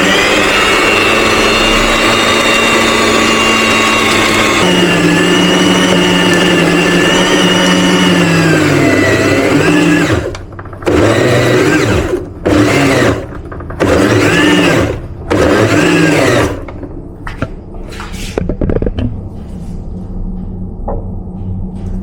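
An electric mixer kneads pandesal bread dough, its motor droning steadily for about ten seconds before cutting into a run of short stop-start bursts that fade out near the end.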